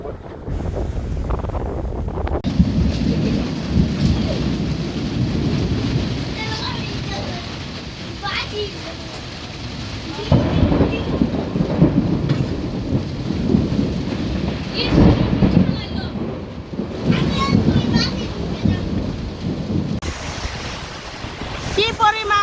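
A village thunderstorm with heavy rain and hail: a constant loud roar of rain and gusting wind, with deeper rumbles of thunder rising and falling, and voices talking now and then beneath it.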